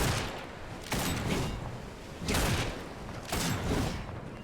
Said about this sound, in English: It's a fucking gun blade. It just swings normally, but then the charge attacks are shoot